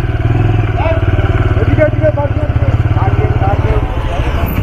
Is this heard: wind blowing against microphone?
no